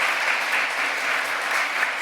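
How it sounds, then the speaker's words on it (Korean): Church congregation applauding to welcome visiting elders, a dense steady round of clapping filling the room, loud and even throughout. "우리 박수로 또 우리 환영하도록 하겠습니다."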